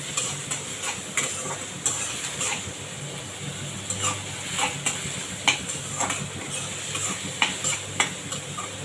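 Onions fry in a pan for a shrimp and bottle gourd curry, a steady sizzle under frequent close stirring scrapes and utensil knocks against the pan, with no one talking.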